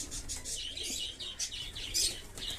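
Pigeons in a home loft holding fantail and flying breeds, heard as soft, close chirps and calls repeating over a low steady background, with some faint wing movement and no talk.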